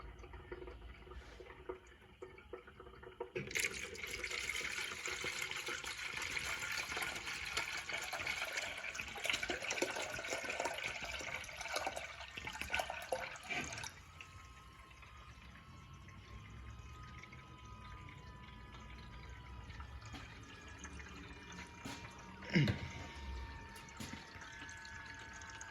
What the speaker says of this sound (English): the bottom of the radiator is busted and is pissing fluid from both